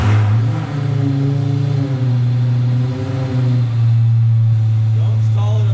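A Lamborghini engine runs indoors on a showroom floor, a loud, close, deep idle that rises and dips with revs and swells again near the end, with brief voices over it.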